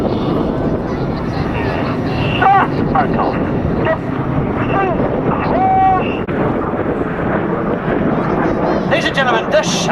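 Red Arrows jets flying in formation at an air show, a continuous loud roar of jet engines with wind buffeting and crowd noise, under a live commentator's voice.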